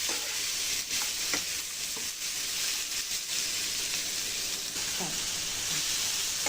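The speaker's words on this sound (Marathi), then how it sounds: "कांदा, टॅमॅटोवरचे जरासे असे साल हे फ्राय झाले ना" Onion and tomato frying in a pan for a cauliflower bhaji make a steady hiss and sizzle with scattered stirring knocks, close and even in level, with no voices.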